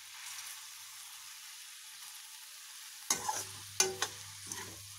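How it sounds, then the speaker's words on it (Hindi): Cabbage and tomato sabzi being stirred in a pan, heard as a faint, steady sizzle followed by a few sharp scraping strokes of the spoon near the end. "बस इसे हम अब चला लेंगे, थोड़ी देर टमाटर पकने देंगे।"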